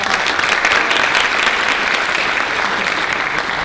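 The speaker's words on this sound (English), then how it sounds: "let's give them another round of applause" An audience at a leadership program event gives a panel a steady burst of applause, dense clapping that stays loud and even throughout.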